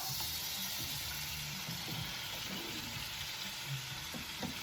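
Cooked pasta for cacio e pepe goes into a hot pot with butter, giving a soft continuous sizzling hiss with a few faint knocks, fairly quiet and without speech.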